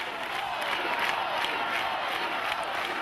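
A dense crowd at the Doudou festival in Mons surges past the ramparts line, a continuous loud wash of voices and shouting with faint cheers and claps rising within it.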